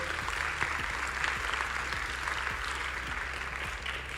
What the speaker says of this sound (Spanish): Por favor, un aplauso para Arturo.